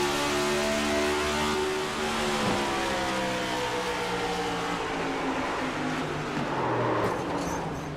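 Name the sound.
onboard audio of ICON race car at St. Louis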